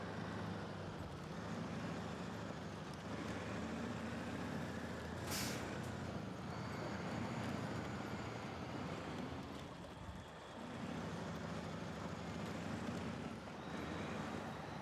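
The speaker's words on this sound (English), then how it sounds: "That's the truck behind me making noise" A truck engine in SnowRunner drones steadily behind, low and continuous, with a brief hiss like an air brake partway through and a short dip in the rumble later.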